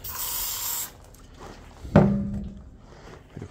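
Brake cleaner hisses from an aerosol can in one short spray of just under a second, followed after a pause by a single dull thunk and quiet handling noises.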